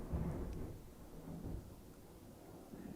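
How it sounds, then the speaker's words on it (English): Thunder rolls during a storm, low rumbles swelling and fading over a few seconds, faint and distant with no voices. "It's really thundering"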